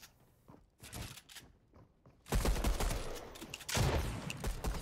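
Rapid bursts of video game gunfire from a building-and-shooting battle game with lag, loud and dense, with sustained volleys and a louder stretch toward the end.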